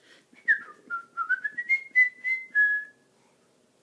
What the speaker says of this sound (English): Daddy's whistling Dixie, though.